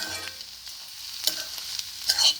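A spoon stirs Andhra-style onion egg curry in a frying pan over a soft background sizzle, with a few scraping clinks against the pan near the end.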